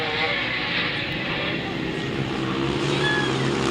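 Two-stroke motorcycle engines racing at a grass track meeting, a steady buzzing roar of passing bikes running throughout beneath a commentator's voice.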